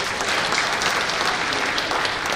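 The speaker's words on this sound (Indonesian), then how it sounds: "tepuk tangan dulu" Loud, dense applause fills the room at a seminar, a steady wash of many hands clapping together with no talk over it.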